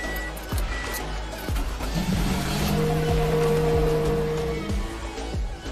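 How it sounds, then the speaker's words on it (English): A car engine idles steadily while the vehicle's A/C system runs, with a low continuous hum, a faint whine and a few clicks, close and moderately loud throughout, with no speech. "Then we will start the engine and then run the AC system."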